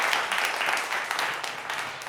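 Crowd applause at a public gathering, a dense, continuous rattle of many hands clapping at moderate distance for a couple of seconds, with no talk over it.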